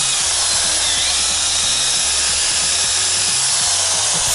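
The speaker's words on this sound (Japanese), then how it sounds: "汚れがきついところとかにコンパウンド垂らして、そこでポリッシャー当てて" Electric polisher buffing the fuel tank of a Honda CB400SF motorcycle with polishing compound, a loud steady motor whine with shifting low hum as the pad moves across the metal, no voices.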